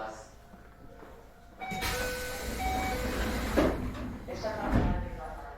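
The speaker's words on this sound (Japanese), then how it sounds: "扉が閉まります。" Doors of a Keio 7000 series train close at a station platform, a sliding thump and short hiss rising over steady platform ambience, with a brief second knock a few seconds later.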